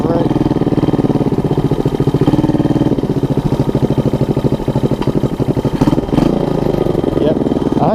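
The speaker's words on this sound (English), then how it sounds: "I'm just going to let the engine run until she stalls out." A Honda ATC 200 three-wheeler engine runs steadily on low fuel, its loud, continuous mid-pitched putter holding an even rhythm throughout with slight fluctuations.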